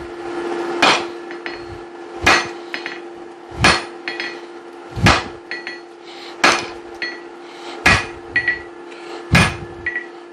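A hammer forges the tip of a hammer eye drift on an anvil with about eight loud, ringing metal strikes at a steady, unhurried rhythm, each followed by a lighter rebound tap, heard close and clear with no talking.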